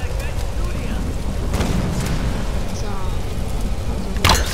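Two sharp gunshot blasts in the Tomb Raider video game ring out, one around mid-clip and a louder one near the end, over a constant rumbling, rain-like game ambience.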